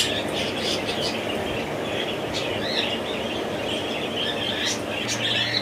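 Birds chirp and call repeatedly at a pied dove breeding farm in Faisalabad. The calls come over a constant loud rumbling wash of background noise.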